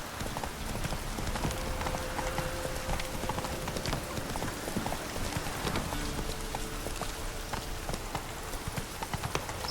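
Roach, the horse in The Witcher 3 video game, clip-clops along with a steady, close rhythm of hoof strikes over a constant rain-like hiss, the hoofbeats sharp and loud throughout.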